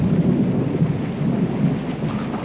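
Thunder and steady rain in a TV commercial: a deep continuous rumble under a dense hiss of rainfall, loud and sustained with no voices.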